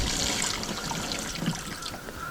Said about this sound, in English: Open this valve until water starts to flow.